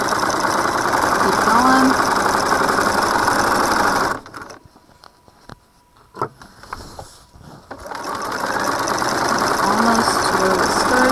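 A sewing machine runs fast and steady, stitching a seam on a string bag, then drops almost silent in the middle while someone briefly speaks, and resumes its dense, close mechanical whirring.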